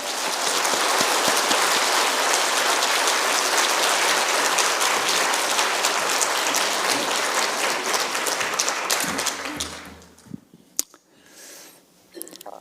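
Loud, sustained applause fills a church at a Wednesday evening worship service as the congregation welcomes a pastor to the pulpit. The dense clapping holds for about ten seconds, then quickly thins into a few scattered claps and quiet.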